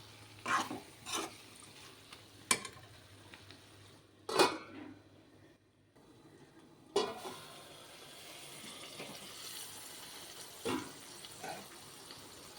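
Ivy gourd (tindora) cooking in oil for a Telugu egg curry, with a quiet, low sizzle under sharp metallic clanks of a utensil stirring against the pan and a few scattered knocks.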